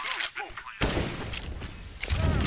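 Counter-Strike gunfire rattles in rapid bursts, loud and close, with a brief gap before a long continuous volley and another burst at the end, with voices talking over it.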